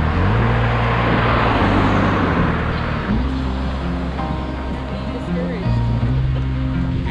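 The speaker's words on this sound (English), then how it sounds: "cars are still driving by" Cars roll past on a rural New Zealand roadside near Manapouri, a steady broadband road roar that swells as vehicles approach, with voices talking over it throughout.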